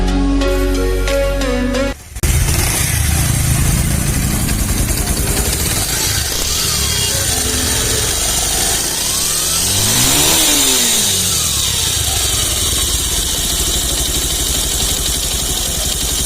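Bajaj Pulsar motorcycle engine after a timing chain adjustment on a worn, stretched chain, running close and loud, idling evenly with a rev rise and fall midway and a brief cut near the start.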